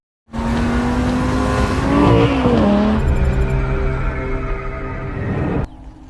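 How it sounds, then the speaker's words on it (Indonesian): A car in a film scene surges forward as the gas pedal is pressed, a loud nearby engine roar rising in pitch with a tire squeal and then easing off. "Morgan pun menginjak pedal gas mobilnya agar ia cepat sampai di kediaman Pablo Martinez."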